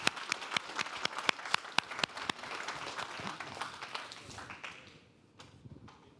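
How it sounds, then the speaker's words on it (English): Conference audience applauding after a talk, a dense crowd of claps with sharp individual hand strikes standing out, sustained for several seconds before fading to a few scattered claps and quiet room noise. "Another round of applause for Eyal."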